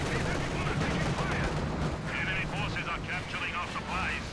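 An artillery barrage in Company of Heroes 2, with a dense wash of booming explosions and rattling gunfire under a fast-talking commentator's voice, loud and continuous throughout.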